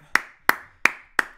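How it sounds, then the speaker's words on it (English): Four sharp, evenly spaced hand claps ring out close and alone, each a crisp single snap in a slow steady rhythm, cheering a basketball team's backcourt. "Just round of applause for our backcourt"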